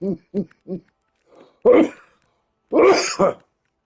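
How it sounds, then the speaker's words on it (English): Coughing from a man playing No Man's Sky: three short, evenly spaced coughs close to the microphone, a brief pause, then two louder, harsher hacking coughs, heard alone in a quiet room. "I start coughing."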